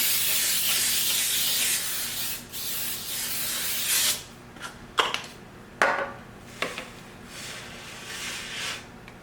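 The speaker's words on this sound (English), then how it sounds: "I'm just going to use this Baker's Joy spray and spray my pan so that it doesn't stick" A long steady hiss of Baker's Joy cooking spray onto a baking pan, then several short spritzes in quick bursts, close by, with no talking.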